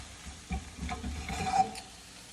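Nearly set eggs in a pan are chopped and stirred, with soft scraping and tapping strokes over a faint sizzle, quiet and close, with no voice.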